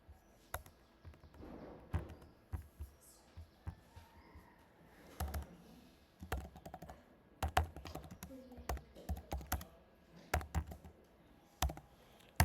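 Keys clacking on a computer keyboard as text is typed, irregular quick clicks in short bursts, close and fairly quiet against a hushed room.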